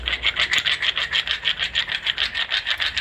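Two flat stone plates are rubbed against each other to grind them flat, giving a steady, close rasping scrape that surges back and forth in an even rhythm about four times a second.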